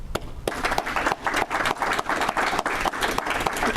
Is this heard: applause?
yes